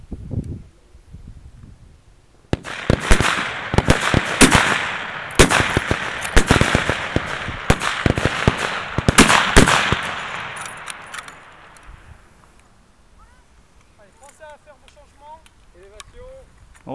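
Rifle fire at Stoney Castle range during a Bisley CSR shoot, heard as a rapid string of sharp, loud cracks with echoing tails that gives way to a quieter outdoor hush, with people talking.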